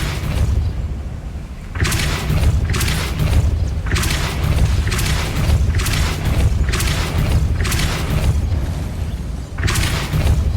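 Depulso spell cast repeatedly in the Hogwarts Legacy video game, a series of loud, punchy magical blasts bursting every second or so over a low rumbling background.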